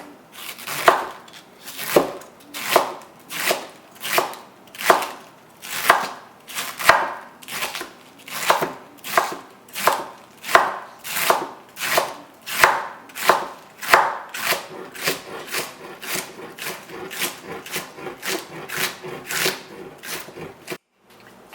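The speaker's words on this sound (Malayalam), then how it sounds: "ക്യാബേജ് ഉപ്പേരി ഉണ്ടാക്കാൻ വേണ്ടിയിട്ട് ക്യാബേജ് അരിയാം." Knife chopping cabbage on a board for a Kerala cabbage thoran, a steady run of sharp, evenly spaced cuts, close and loud, that quicken slightly toward the end, with no talking.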